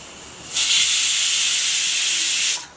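A pressure cooker whistle lets off a loud, steady hiss of steam for about two seconds while cooking dal rasam, starting and stopping abruptly against a quiet room.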